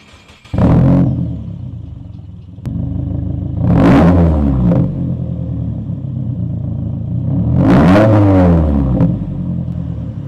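A 2023 Subaru WRX with an aftermarket exhaust and H&R springs starts up close by, then settles into a throaty idle broken by three sharp revs that rise and fall over several seconds.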